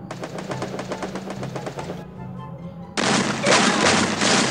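Rapid bursts of shotgun and automatic gunfire from the Free Fire battle royale game, a dense rattling volley, a brief lull, then a louder, sustained barrage close up.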